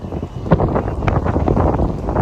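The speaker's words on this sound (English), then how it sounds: "That wind's strong." Strong storm wind roars and buffets the microphone steadily in Timmins, Ontario, with rustling gusts surging throughout and no talking.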